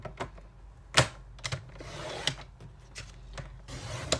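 An aging craft blade scores thick cardstock for a scrapbook page, giving a few short, dry scraping strokes with light taps between them at close range and moderate volume.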